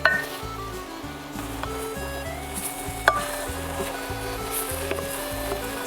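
Sliced mushrooms sautéing in olive oil in a pan, a soft steady sizzle with occasional utensil stirs and clinks, under a low rhythmic background hum.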